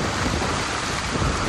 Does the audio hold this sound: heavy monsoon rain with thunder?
yes